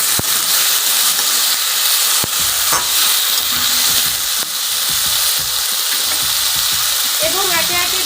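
Spiced fish curry sizzles and fries in a pan, a steady close hiss of hot oil with scraping stirring strokes running through it, a couple of sharp clicks, and no talk.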